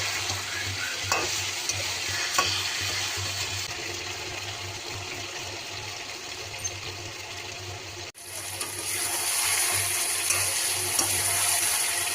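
Mutton pieces fry and get stirred in a pan with onion paste, garlic paste, chilli powder, turmeric and salt, a steady close sizzle broken by scraping spoon strokes, with a brief cut partway through.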